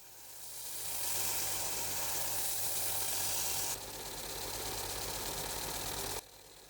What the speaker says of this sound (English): Those end caps then got sanded on the belt sander just to remove the bandsaw marks